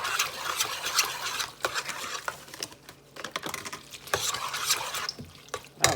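Seasoned Thanksgiving dish mixture being stirred in a bowl, a run of soft, uneven scraping and wet sloshing strokes heard close up with no one talking.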